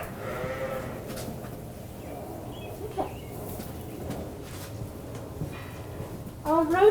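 Sheep bleat at a farm shearing event, with a few short, wavering calls rising over a busy background murmur and a louder bleat near the end.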